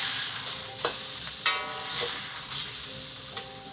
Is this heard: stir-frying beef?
yes